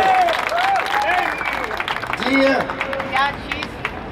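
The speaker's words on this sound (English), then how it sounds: "Let's give another round of applause to Wendy Carrillo, Assembly member." A crowd claps at an SEIU rally of Uber drivers at Los Angeles City Hall, a fairly close round of applause mixed with shouted voices and cheers.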